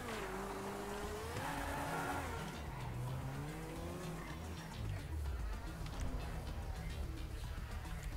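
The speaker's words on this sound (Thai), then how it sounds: "โอ้ยรถแรงว่ะ" A fast car in GTA V Online revs and accelerates with rising and falling engine whine, tire squeal and skidding up close, while a voice talks over part of it.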